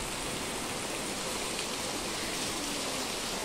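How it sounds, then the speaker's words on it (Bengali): Heavy monsoon-like rain pours down at night, a dense, steady roar of falling water that stays constant and loud throughout with no voices. "মুষলধারে বৃষ্টি হচ্ছে।"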